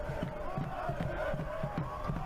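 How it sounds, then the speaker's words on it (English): A soccer crowd at a U Sports men's championship quarter-final cheers Carleton Ravens on, a dense steady roar with rhythmic rising chant pulses repeating about every third of a second throughout. "Crowd is really into it now,"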